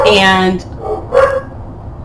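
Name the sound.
dogs barking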